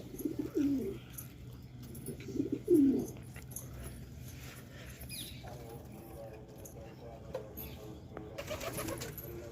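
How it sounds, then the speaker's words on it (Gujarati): Domestic pigeons coo in a couple of low, rolling bursts near the start, then softer bird sounds and rustling continue with someone talking over them. "અને આપણો ભૂરો જોવો કૂકે અહીંયા"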